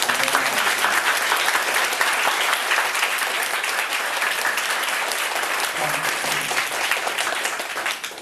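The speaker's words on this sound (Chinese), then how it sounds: "我们现在热烈掌声欢迎" Audience applause welcomes a speaker at a political gathering on citizens' recall rights under Taiwan's Constitution Article 133. Dense, steady clapping fills the whole stretch, loud and close, with faint murmuring voices underneath.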